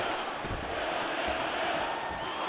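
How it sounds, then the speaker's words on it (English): A crowd in the UFC 4 fighting game roars steadily at a moderate distance, a continuous wash of cheering and murmuring with no clear breaks. "Crowd is like just reacting every time he moves."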